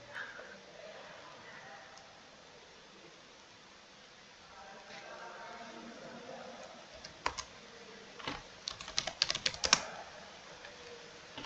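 Faint typing on a computer keyboard: soft, sparse clicks grow into a quick burst of keystrokes near the end over low background hiss.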